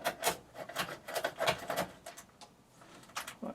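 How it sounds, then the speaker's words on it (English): Bolts being unscrewed from the power board of a Roland S-50 sampler during restoration, close small scraping, rubbing and ticking metal sounds in irregular bursts, no voices. "we've got 4 screws, bolts effectively, and they just come off"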